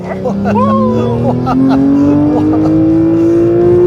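A sports car engine revs hard, its pitch climbing steadily to a high, loud scream while a voice talks over it.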